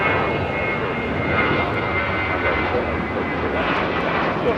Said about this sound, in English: JetBlue A321 taking off.